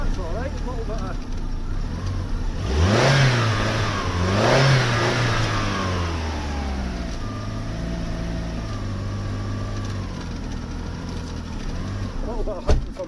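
A cheap used Vauxhall car's engine revs up and down in uneven surges as it hunts for revs, rising and falling in pitch before settling to a steady idle, with talking over it.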